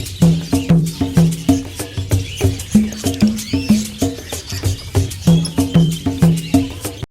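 Caged birds at the Karimata bird market in Indonesia trill and chirp in rapid, repeated bursts, a busy close chorus of calls that runs steadily without pause.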